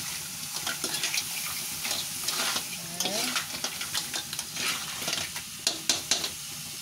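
Cheesy crab in garlic sauce is stirred in a hot pan, a spoon scraping and clinking in uneven strokes over a steady sizzle.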